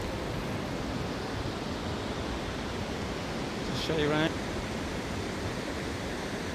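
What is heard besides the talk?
waterfall, the Falls of Killin in Scotland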